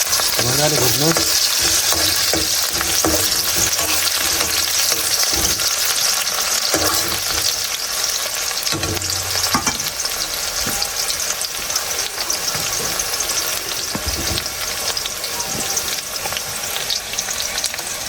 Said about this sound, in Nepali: मजाले भुट्नुहोस्